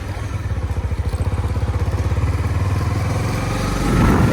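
A motorcycle engine putters at a steady low throb, then revs up slightly toward the end, close and fairly loud.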